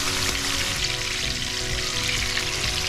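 Tuna fries in a pan with a constant loud sizzle and crackle, close up, with no voices over it.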